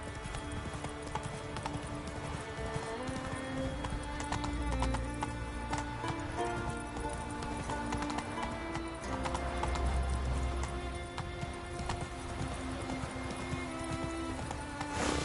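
Horse Roach's hooves clip-clop in a steady gallop in Witcher 3, set in the Toussaint region, with occasional whinnies over game music and ambience.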